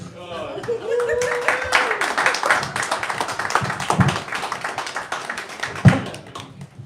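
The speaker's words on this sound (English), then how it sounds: "Give them another round of applause." Audience applause at a live comedy open-mic set fills the room, a dense, steady wash of many hands clapping with a voice and a brief tone near the start and a few louder thumps later on.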